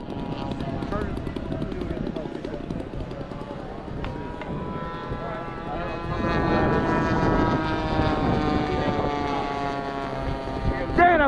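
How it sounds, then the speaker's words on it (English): A P-51D Mustang model plane with a GP76 twin engine, rated near 200 mph, roars past with a loud buzzing engine whine that grows louder as it approaches, with people talking over it. "Damn, that plane is fast."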